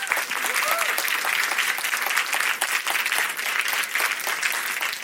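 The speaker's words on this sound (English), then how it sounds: "Can you all give them a round of applause?" Audience applause fills a conference expo hall with a steady, dense wash of clapping from a sizeable crowd, holding at an even level for the whole stretch.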